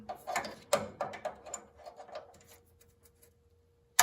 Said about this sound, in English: take these little baby vice grips and put them on here